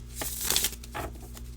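A deck of symbol cards is riffle-shuffled up close, with two or three quick papery bursts of flicking and ruffling and a soft thump between them.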